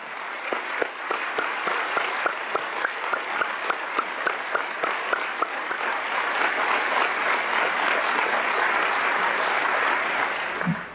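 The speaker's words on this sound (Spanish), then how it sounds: "Pido un aplauso para todos los que se hicieron maestros" Steady, sustained applause from a large crowd, dense clapping that holds strong throughout and swells slightly before cutting off.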